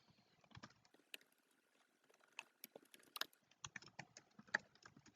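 Quiet, irregular clicks of a computer keyboard being typed on, scattered keystrokes in uneven bursts with short pauses, close and alone with no talk.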